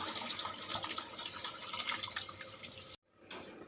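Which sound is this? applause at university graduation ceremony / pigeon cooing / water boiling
water boiling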